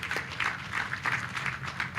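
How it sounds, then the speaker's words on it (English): An audience claps steadily, a continuous patter of many hands at moderate loudness. "A hand clap for him."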